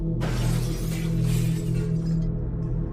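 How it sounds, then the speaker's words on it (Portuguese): Glass shattering as a sound effect, a sudden crash followed by a sustained spray of breaking shards that fades after a few seconds, loud and alone. "ouvi um barulho de vidro se quebrando lá embaixo"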